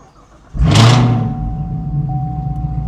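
A Chevrolet Camaro ZL1 engine with a Corsa exhaust cranks and fires up with a sudden loud roar, then settles into a deep, steady rumbling idle.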